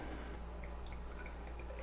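Tart cherry beer from a barrel-aged bottle pours into a glass with faint dripping and liquid trickles, quiet and close, with no voices.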